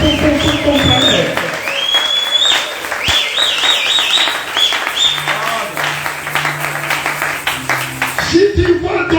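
A church congregation bursts into cheering and applause during a sermon, loud mixed clapping and shouting voices with whoops, fading toward the end as a voice returns.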